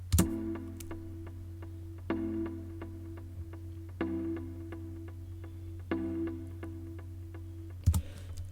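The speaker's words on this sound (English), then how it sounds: "the chord track, which is playing a simple triad" A synth chord track from the Captain Chords plugin plays a simple triad in short stabbed chords, struck about every two seconds over a steady low drone, with no voices.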